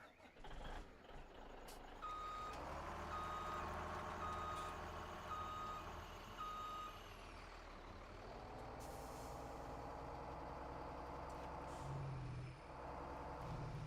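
A dump truck engine in Farming Simulator 17 rumbles with a hiss of air brakes while steady reversing beeps repeat in a regular rhythm, fairly close.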